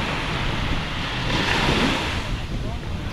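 Sea surf rolls continuously onto a beach, a steady broadband wash of breaking waves mixed with gusty wind buffeting the microphone, holding at an even, fairly loud level throughout.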